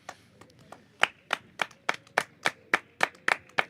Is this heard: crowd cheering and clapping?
yes